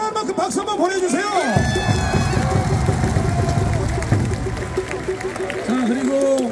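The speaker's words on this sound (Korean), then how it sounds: "여러분들이 사랑할 만큼 박수 한번 보내주세요" Baseball stadium crowd applauding a player during a KT game, a broad sustained wash of clapping and cheering filling the clip, with an announcer's voice over the stands near the start and end.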